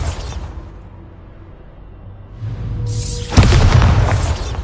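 A Bombarda blasting spell goes off in Hogwarts Legacy, a rising whoosh building into one loud, close booming explosion with a rumbling tail.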